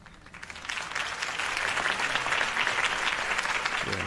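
A video game crowd in Batman: The Telltale Series claps and cheers, the applause swelling quickly and holding steady as a dense, lively roar from many hands.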